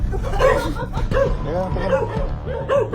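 Repeated close dog barking and yipping in quick succession, with people talking over it throughout.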